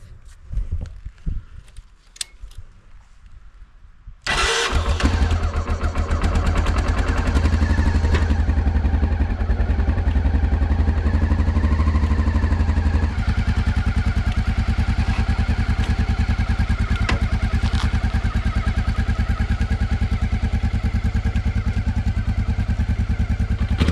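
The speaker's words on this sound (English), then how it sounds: "the bike hasn't been running for 3 or 4 days, so let's see how she starts up" A Honda XRV750 Africa Twin motorcycle, left standing for several days, cranks and fires up after about four seconds of quiet shuffling, then settles into a loud, steady idle that runs close by and alone for the remaining twenty seconds.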